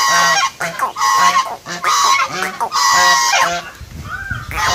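Domestic ducks honk close by beside a concrete swimming pond, a loud run of about eight short, rhythmic nasal calls fading into softer quacks at the end.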